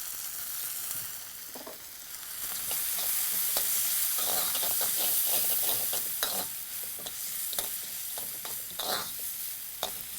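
Finely chopped potato stirred and fried in a pan for poha, with a steady sizzle and repeated scraping stirs of a spatula, close and fairly loud with no talking.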